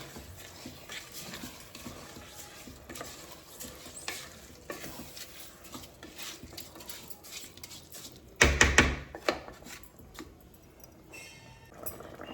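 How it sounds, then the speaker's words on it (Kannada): Rice being stirred in a pan on a home kitchen stove, with soft scraping and a faint sizzle running steadily, then a brief louder clatter near the end. "ಅಕ್ಕಿನ ನಾನು ಈ ರೀತಿ ಅಕ್ಕಿನ ಮಿಕ್ಸ್ ಮಾಡ್ಕೊಳ್ಳಿ"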